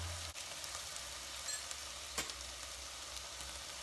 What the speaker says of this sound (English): Let all the dry spices saute a little bit